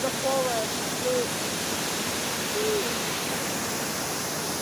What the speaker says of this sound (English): this beautiful, amazing waterfalls from the mountain, from the forest